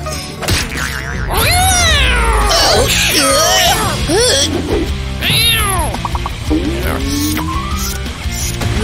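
An animated cartoon cat meows loudly several times in quick, rising and falling calls, mixed with other voices and busy background sound.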